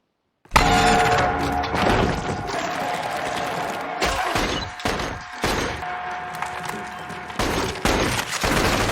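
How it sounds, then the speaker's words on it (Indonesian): Bursts of rapid gunfire in a film crackle loudly in volleys, broken by short pauses, with sharp cracks and a sustained tone running beneath. "Karena suara tembakan yang begitu berisik"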